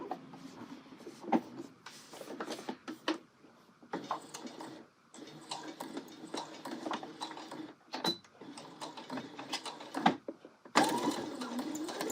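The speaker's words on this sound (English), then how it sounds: "we're going to sew this last corner of the welt, making sure everything is really smooth" A sewing machine stitches the welt corner of a colorblocked angle coat in short rapid bursts separated by brief pauses, close and fairly quiet, its rattling needle ticks ending in a louder final run.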